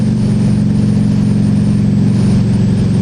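A motorcycle engine is held at high revs, loud and close, with a steady droning roar across the whole moment.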